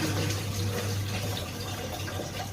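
Water runs steadily from a household tap, a continuous close splashing hiss with a low hum underneath and no talking.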